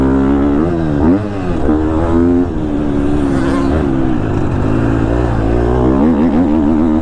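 The engine of a 2022 KTM 250 SXF dirt bike ridden on a track, loud and close, revving up and down through the gears with a buzzy, rising and falling four-stroke note throughout.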